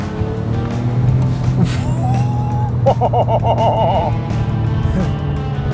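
A Porsche 997 Turbo accelerates on a highway, its engine a loud sustained drone layered with wind and road roar, heard from inside the car, with a brief tonal whine in the middle.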